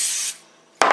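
Two short hissing bursts of spray from a can onto shaped whole wheat bread dough, the first longer, the second a quick puff after a brief pause.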